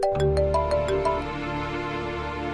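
A phone rings with a bright, tonal electronic melody, loud and close, playing alone without any talking.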